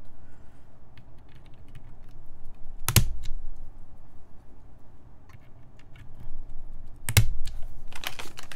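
Typing on an Alchemy AL.6 mechanical keyboard fitted with louder switches: close, steady soft key clacks with two sharp, louder thumps standing out, and no talking.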